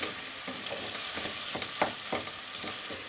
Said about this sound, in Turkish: Salçasını da ilave ediyorum. Bu şekilde kavuruyoruz.